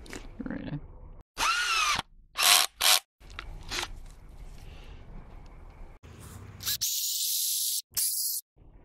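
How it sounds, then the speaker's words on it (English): Power drill driving screws into a wooden bee hive box at night, several short loud whirring bursts of varying length separated by quiet handling noises and brief spoken remarks. "I'll have to put a few extra screws in."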